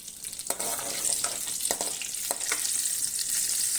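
Spices temper in hot oil for a tamarind curry, crackling and popping, quick sharp snaps scattered over a steady close sizzle.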